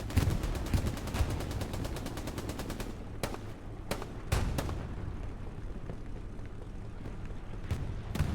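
Rapid machine-gun and rifle fire at infantry on the Stalingrad map of Hell Let Loose, a dense rattling burst for three seconds, then sharp separate shots and distant rumbling battle noise.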